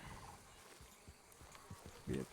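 Wild turkeys in Red Dead Redemption 2 give short, faint gobbling bursts, with the loudest burst near the end, amid soft background ambience and scattered clicks.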